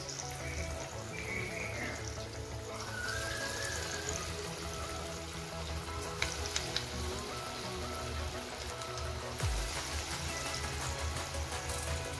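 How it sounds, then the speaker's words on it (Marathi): Chana dal bhaji fry in hot oil with a dense, steady crackling hiss that holds evenly throughout, close and moderately loud. "आपण आता भजी सोडून घेऊया तेलामध्ये"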